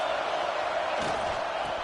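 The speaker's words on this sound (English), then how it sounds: "This crowd trying to make life miserable for this offense." A stadium crowd at a football game roars steadily, a broad, sustained wash of massed voices with a brief swell midway, loud and enveloping with no single voice standing out.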